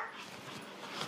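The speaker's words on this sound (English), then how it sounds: "Look at this freaking dog barking." A dog barks and yips with whimpery, broadband bursts, fairly close and continuous over steady background noise, with no talking.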